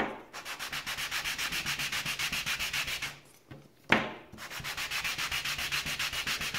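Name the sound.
hand sanding with sandpaper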